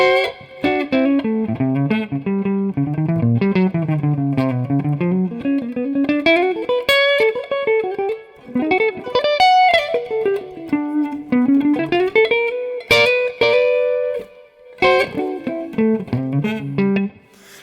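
Jazz guitar through an overdriven amp playing melodic lines and chords with a gritty, barking edge, sharp percussive attacks, loud and steady throughout.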